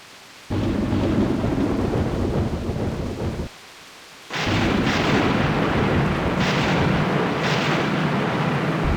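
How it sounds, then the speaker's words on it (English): Thunderstorm from the video game Grandia II: heavy rain and deep rolling thunder with two loud rumbling bursts separated by a brief quiet gap, no voices. "Yet the storm and rumblings only grew worse."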